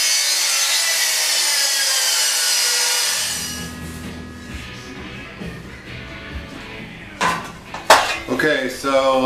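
Metal hat section for DIY trike skis is cut, starting with a loud, steady, bright grinding hiss that stops abruptly, followed by scraping, rubbing and clanking metal handling noises.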